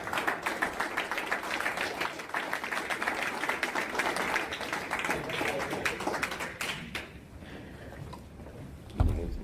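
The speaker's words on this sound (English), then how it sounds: "he deserves all of your applause right now" Audience applauding at a meeting, dense clapping that holds for about seven seconds then thins out and stops, followed by a single bump.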